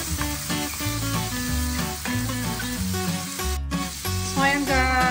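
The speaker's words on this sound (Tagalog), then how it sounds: "Haluin hanggang lumambot ang ating sibuyas." Onions sauté in a pan for pinakbet with a continuous, fairly loud sizzle and occasional stirring, over a steady tonal background.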